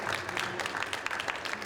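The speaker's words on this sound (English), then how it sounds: "Let's just welcome them and give them a round of applause" Audience applause welcoming a garden industry panel at a live question-time event, a short burst of many hands clapping, moderately quiet and even.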